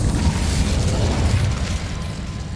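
A fire spell cast in Hogwarts Legacy gives a steady, loud roaring whoosh of flame that holds for over two seconds, then eases slightly toward the end.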